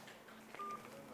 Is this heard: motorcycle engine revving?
no